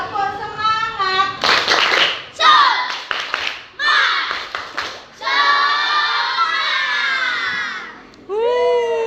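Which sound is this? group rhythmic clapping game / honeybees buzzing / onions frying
group rhythmic clapping game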